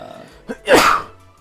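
A single person's sneeze bursts out sharply and close after a brief throat catch, loud against a quiet indoor background.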